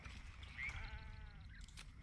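Sheep bleating in the video game Baldur's Gate 3, set in sunlit wetlands: one drawn-out, wavering bleat near the middle, fairly faint over a low steady background hum.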